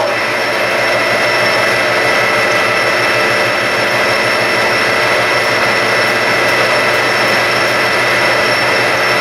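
A metal lathe takes a light finishing pass on a tube, a loud, steady whirring hum with a high mechanical whine running unbroken throughout, no voices.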